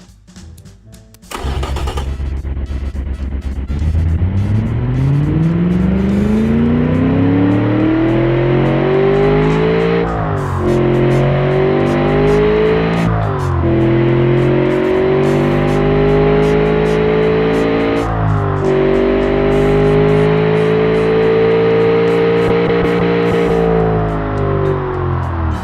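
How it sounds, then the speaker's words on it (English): Simulated Chevrolet 383 stroker V8 with long tubular headers and a carburetor fires up in the Automation game, then revs loudly through repeated climbs in pitch, each broken by short gear-shift-like dips before rising again. "So let's hear the engine now."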